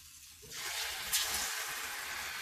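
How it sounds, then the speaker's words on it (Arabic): Chickpea fries hit hot frying oil and set off a steady, bright sizzle that starts abruptly and keeps hissing close by without pause. "ندير واحد شويه هنايا في الزيت، الزيت راه داير الزيت ديال القليان"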